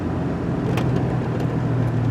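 A truck slows down with grinding, shuddering rear brakes, heard from inside the cab as a steady low rumble of road and drivetrain noise with faint scraping overtones throughout.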